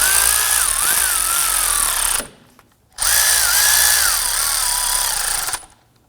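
A power tool snugs down the axle nuts on a 2008-2011 Ford Focus right front CV axle assembly in two loud whirring bursts, each a couple of seconds long, with a short pause between them.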